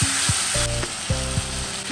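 Turmeric and Kashmiri chili powder hit softened tomatoes in a hot pan, giving a steady, close sizzle with bursts of louder spitting and a few clinks of a utensil, no voices.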